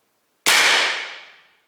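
Single sharp crack of an Umarex Air Javelin HPA air gun firing, loud and close after brief silence, with a hissing tail that fades over about a second.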